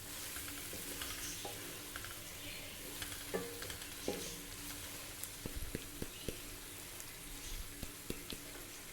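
Fried bhindi masala cooks on low heat in a pan, giving a steady soft sizzle with scattered small pops and crackles throughout, fairly quiet and without talk.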